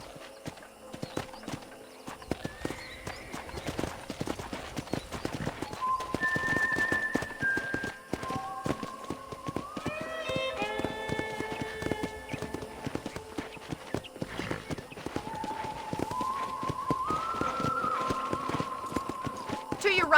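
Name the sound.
horse hooves while riding, video game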